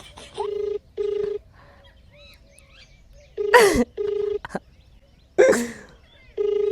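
A phone call rings out as repeated steady electronic tone bursts at an even on-off rhythm, loud and close, with people talking and reacting between the tones.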